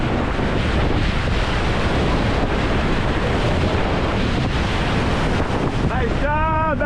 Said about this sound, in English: The first day, we raft a series of Class 4 rapids.